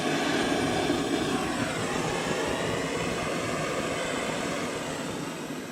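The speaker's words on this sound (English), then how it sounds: "Pretty nice running stove, really." A running stove burner gives off a steady, loud, broadband roar like a jet flame, holding even for the whole stretch and easing slightly near the end, with no talking.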